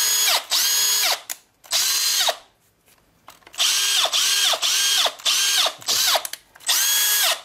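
A Makita 18V power tool fed from a Dekton 20V battery through an adapter whirs in repeated short trigger bursts, each spinning up and cutting off, with brief pauses between.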